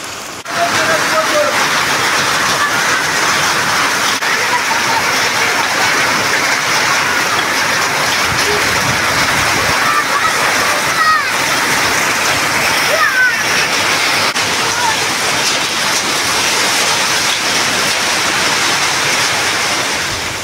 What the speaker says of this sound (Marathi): अवकाळी गारांचा पाऊस झाल्याचे स्थानिकांनी याबाबतचे व्हिडिओ पाठवून कळवले आहे